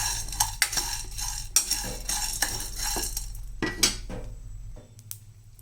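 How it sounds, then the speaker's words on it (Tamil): A spoon scrapes and clinks around a pan of roasting dry ginger, pepper and spices in repeated strokes, with a faint background sizzle and low hum that cuts out near the end. "இதை நல்லா நம்ம வறுத்துக்கலாம்."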